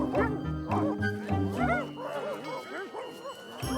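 Cartoon dog barking in a Garfield episode, a few quick yappy barks and whimpering yips mixed with background score, fairly close and moderate in level.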